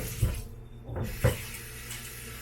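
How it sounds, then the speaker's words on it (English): Cold water from a kitchen tap runs over raw chicken in a strainer in a sink, a steady close splashing wash with brief knocks and clatter, no voices. "I'm going to run some cold water over it"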